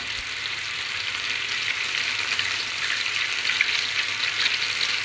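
Ukrainian potato pancakes (deruny) fry in oil in a pan, a dense, steady sizzle that stays close and even from start to finish with no talking.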